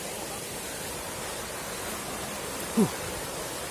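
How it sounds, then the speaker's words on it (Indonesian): A river flows below a waterfall trail, a steady broadband rush of water filling the whole stretch, with one brief low thump near the end. "di bawah ada sungai"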